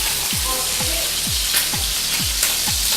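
Pork fries in a pan of hot oil, sizzling loudly and steadily while splattering, with regular soft thumps of stirring underneath.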